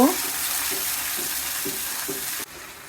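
Beef liver is stirred in a pan with blended onion and salt, a constant close sizzle running under a few spaced scraping strokes of the spoon, no voices.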